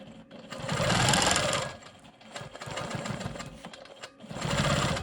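A sewing machine stitches straight quilting lines across a quilt block in three close, loud bursts of rapid whirring, with short pauses between runs.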